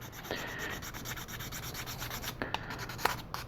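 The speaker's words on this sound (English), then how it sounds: "So I sand until those are gone." Steady scratchy rubbing of sandpaper on a 1/72 scale plastic model part, continuous and close, with a few sharper scraping strokes toward the end.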